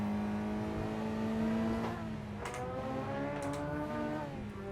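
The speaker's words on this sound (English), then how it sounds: "That is a noisy CRX." A Honda CRX engine in a VR racing game whines loudly at close range, its pitch climbing and dropping through gear changes.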